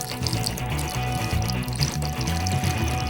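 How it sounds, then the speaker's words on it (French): Oil and water are poured into a mound of flour to make Korean noodle dough, a steady liquid pour running under continuous background music. "Puis formez un tas encore une fois et versez l'huile et l'eau dedans."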